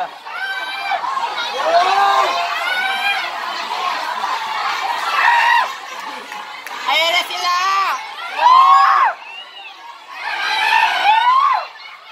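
A loud, dense crowd at a school club fair, with children and teens shouting, cheering and whooping together, continuous and close, and individual voices rising over the roar.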